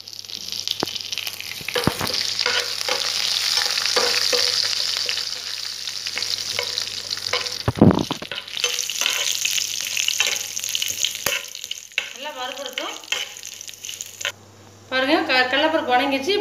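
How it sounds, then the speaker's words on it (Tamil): Mustard seeds, cumin and chana dal frying in hot oil for a tempering, a busy crackling sizzle with stirring scrapes, while a person talks over parts of it. "பாருங்கள், கடுகு பொரிஞ்சிச்சு, நம்ம சீரகம் போட்டுடலாம்."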